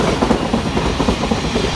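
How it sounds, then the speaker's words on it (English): A Govia Great Northern class 717 electric train passes through Hornsey station with a close, loud rumble and rhythmic clickety-clack of wheels over rail joints. "Also passing through for Govia Great Northern is 717024, working 2K52 from Moorgate through to Welling Garden City."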